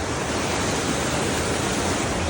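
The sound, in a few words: waterfall water flowing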